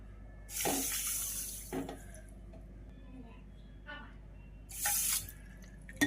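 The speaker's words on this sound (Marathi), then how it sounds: "याच वाटीने आपल्याला दीड वाटी पाणी घालायचं आहे" Water pours in two bursts, splashing into a pot with sugar for syrup, separated by quieter clinks and handling noises.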